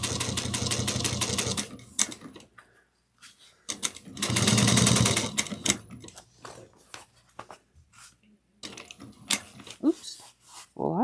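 A sewing machine stitches a bag lining close to a magnet near the presser foot, running in loud rapid bursts of mechanical whirring separated by pauses, with a voice speaking between the runs.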